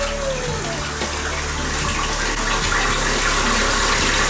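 Water pours steadily from a tap into a bathtub being filled to make a slime bath, a continuous close rushing splash with no talking.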